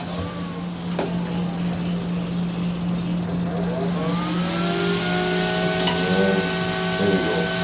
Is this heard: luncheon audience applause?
no